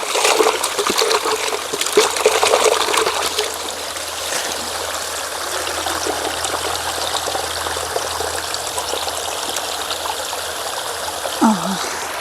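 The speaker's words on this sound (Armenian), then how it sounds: "այս դույլն է լավ լվանամ, ջուր դնեմ" Water splashes and trickles as a bucket is rinsed and filled outdoors in a garden, a continuous close gushing stream with shifting splatter, louder at first and then settling into a steady pour.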